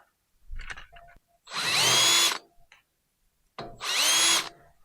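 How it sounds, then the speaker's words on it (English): Two bursts of a small power drill whirring, each about a second long, with handling clicks and a brief pause between them, close up. "And then I'm going to just drill a little hole."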